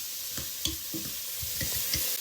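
Onion and garlic frying in butter, stirred in a pan: a steady soft sizzle with a few spoon scrapes and knocks spaced through, close and fairly quiet, no talking.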